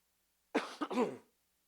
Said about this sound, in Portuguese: Desculpa aí que a tosse está feia hoje.